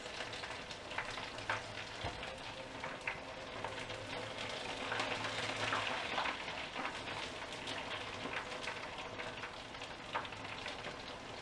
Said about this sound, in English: the Goujon of the fish goes straight in the batter and then straight into the fat fryer